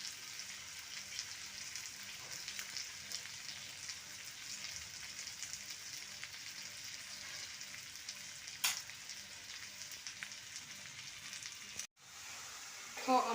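Green pepper and tomatoes fry in a pan, a steady, fairly quiet sizzle running throughout with a brief sharp clatter near the end.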